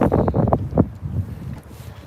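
Gusts of stormy wind buffet the microphone outdoors at Potter Heigham, making uneven low rumbling thumps that are strongest in the first second and then fade to a softer rush.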